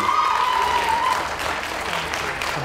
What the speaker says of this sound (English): A big round of applause, please, for our remaining shortlisted breeds